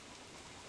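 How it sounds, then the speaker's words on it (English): Steady broadband rain hiss from the Don't Starve Together game world, a soft continuous patter with no talk over it. "It's now raining."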